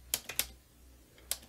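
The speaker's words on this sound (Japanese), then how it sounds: "文字を入力します" Typing on a computer keyboard: three quick key clicks, a pause, then one more, close and crisp in a quiet room with no talk.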